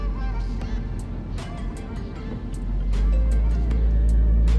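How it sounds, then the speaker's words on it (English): Mini Cooper exhaust note, a low, steady engine rumble close by that swells louder over a few seconds with faint higher clicks on top. "That exhaust sounds wonderful."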